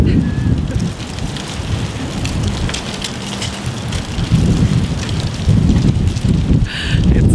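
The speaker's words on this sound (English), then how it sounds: "It's literally so windy." Heavy wind buffets close up with loud low-frequency rumbling gusts, rising and falling continuously, with faint voices partly underneath.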